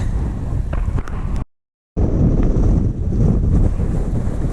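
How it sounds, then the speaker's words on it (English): Strong gusting wind on an exposed hill along the Southern Upland Way in Scotland buffets the microphone with loud, continuous roaring rumble, broken by a brief dropout before the blustering resumes. "Well, the wind has picked up since earlier."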